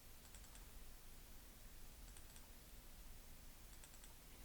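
Computer keyboard typing, very faint and distant, with small clusters of light clicks in a few brief bursts over a soft steady hiss.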